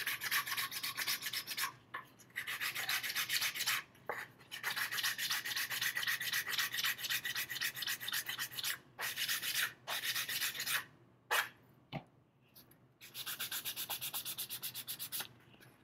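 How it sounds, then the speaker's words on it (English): Wood is sanded smooth with a sanding block, making steady rhythmic rasping strokes in long continuous runs broken by a few short pauses, close and fairly loud. "I'm going to sand this smooth"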